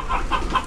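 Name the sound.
chickens and chicks clucking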